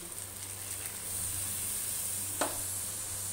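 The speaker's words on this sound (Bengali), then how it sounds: "আমি এখন একটু জল দিচ্ছি।" Water goes into a hot pan of potol posto, a Bengali pointed gourd dish cooked with green chillies. A steady soft sizzle and hiss follow, with one brief sharp crackle and no talking.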